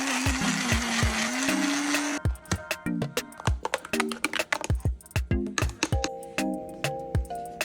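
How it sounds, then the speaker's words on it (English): A blender pureeing cooked parsnips with butter whirs loudly and steadily for a couple of seconds, then cuts off, followed by a series of sharp clinks and knocks. "Pop it into a blender with a bit of butter and the cooking liquid and blend it till it's smooth"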